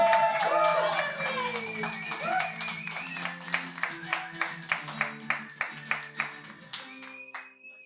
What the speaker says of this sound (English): Guys, I want to get the round of applause now.